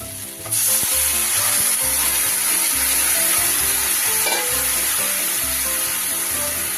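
Boiled bottle gourd hits a pan of sizzling spice mix for a rohu fish curry, and a sudden loud burst of sizzling settles into a continuous frying hiss over background music.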